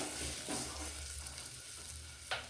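Green peas fry in a little oil with turmeric for matar masala, giving a quiet, steady sizzle with faint stirring scrapes and a soft clink near the end.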